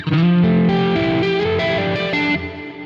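A distorted electric guitar plays a short melodic riff, sustained notes stepping up and down, loud and close with no voices.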